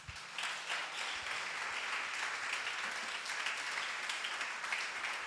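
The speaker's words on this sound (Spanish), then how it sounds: "Ofrece un fuerte aplauso al Señor" A church congregation breaks into loud, sustained applause during a worship service, dense clapping filling the room steadily for several seconds with no voices standing out.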